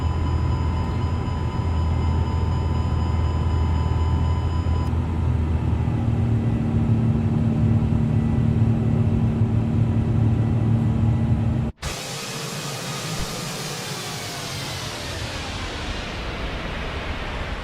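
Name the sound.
Airbus A350 jet engines departing, Microsoft Flight Simulator 2024 video game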